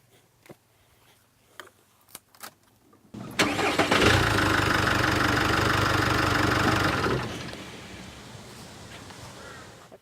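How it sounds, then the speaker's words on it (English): After a few clicks and quiet handling noises, a car engine cranks and fires using an SSC05 jump starter power pack, then settles into a steady, close idle. "We'll jump start the vehicle"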